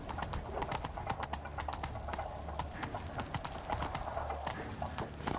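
The horse Roach galloping in The Witcher 3, a fast, steady clip-clop of hooves that runs close and clear throughout, with a faint voice briefly in the background.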